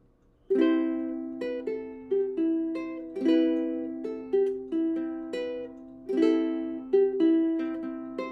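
Ukulele fingerstyle playing of the third line of a song: a steady sequence of plucked notes and chords, each ringing and decaying in an even melodic rhythm, close and clear with no voices.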